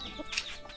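A Thai village chicken gives a brief single cluck at an old wooden Phu Thai house. The short, soft call sits over quiet outdoor background, with no talking.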